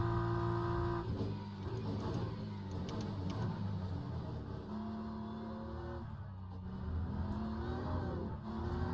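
A BMW race car engine in the Le Mans Ultimate racing game drones steadily, its pitch rising and falling through gear changes and revs at a moderate level, with no talk over it.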